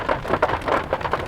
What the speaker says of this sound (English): It's hailing, it's crazy.